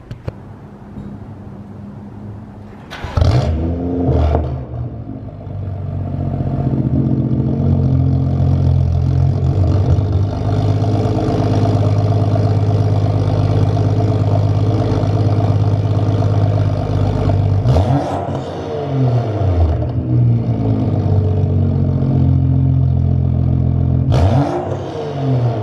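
A BMW 435i F32 coupe's engine and exhaust rev up from idle into a long, steady, loud drone. It drops back briefly near the twenty-second mark and then rises again as the revs climb once more.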